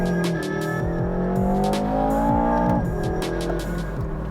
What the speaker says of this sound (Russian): Еще очень круто звучат отхлесты на переключениях передач.